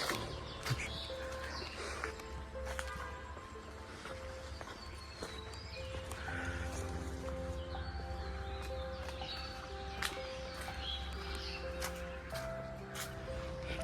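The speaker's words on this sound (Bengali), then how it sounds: "খুবই শান্ত পরিবেশ, চারিদিকে পাখিদের আওয়াজ।" Birds chirp in scattered short calls around a quiet garden estate, distant and soft over a low background hush, while footsteps shuffle nearby throughout.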